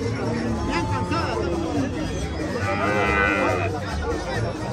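Cattle low and moo at a busy Mexican livestock market where heifers are traded, the calls rising over a steady crowd hubbub and nearby chatter throughout.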